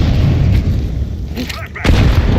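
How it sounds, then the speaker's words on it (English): A grenade goes off in Counter-Strike 2 gameplay, a loud, close boom cutting through continuous gunfire and game noise, with voices mixed in underneath. "I'm throwing a grenade."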